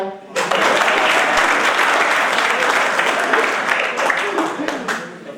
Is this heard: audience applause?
yes